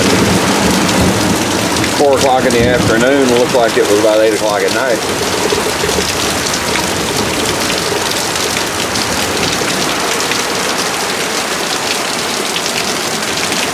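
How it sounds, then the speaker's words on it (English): A thunderstorm over Dallas, Texas, brings a heavy, constant roar of rain and a low rumble of thunder near the start. Someone talks over the downpour. "because the storm moved in"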